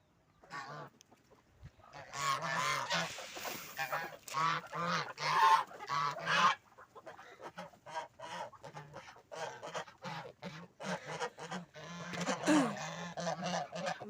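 Geese honk repeatedly at evening feeding time in a rural yard shared with chickens, with loud, overlapping calls coming in dense bursts close by throughout.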